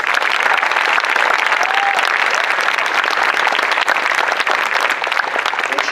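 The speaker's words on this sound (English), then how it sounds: "Can we give one more round of applause for my friend Motaz?" Audience at a talk about Gaza gives a round of applause, dense continuous clapping from a large crowd, loud and sustained for the whole stretch.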